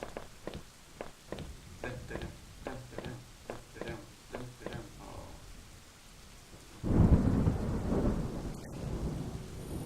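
Heavy rain and rolling thunder in the horror video game Home; a voice speaks over quieter ambience for the first part, then a loud, steady wash of downpour swells in and fills the end.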